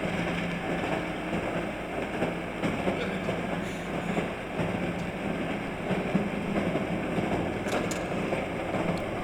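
A subway train in the Cry of Fear video game rumbles on without a break, a dense, steady roar of wheels and carriage noise that stays loud and even throughout, with no voices.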